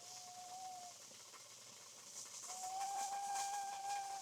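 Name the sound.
SilverAnt titanium rice cooker whistling with steam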